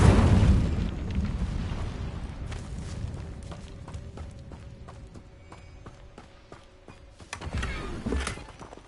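A whooshing burst and crackle of the Incendio fire spell cast in Hogwarts Legacy, with a low rumbling blast at the start, thin lingering tones and scattered clicks, then a second flaring surge near the end.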